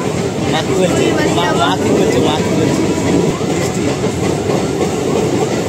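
A train rolls past a railway level-crossing gate at Phutia Sharif near Canning, a loud steady rumble with rail clatter filling the whole stretch, with people talking over it.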